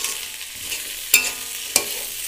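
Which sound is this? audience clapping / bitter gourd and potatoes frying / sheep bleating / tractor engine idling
bitter gourd and potatoes frying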